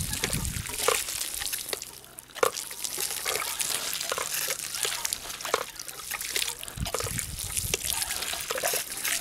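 Water trickles and splashes steadily from the output pipe of a homemade water ram pump that runs without electric power, a continuous close flow with irregular sloshing bursts and faint knocks.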